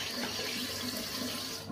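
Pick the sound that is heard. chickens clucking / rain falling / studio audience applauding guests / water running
water running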